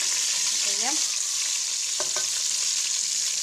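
Vegetables frying in butter and oil for an Algerian mderbel dish, a steady bright hiss of frying throughout with a few faint clinks from a utensil, no talk.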